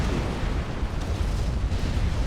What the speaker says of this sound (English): the ACU goes up in nuclear explosion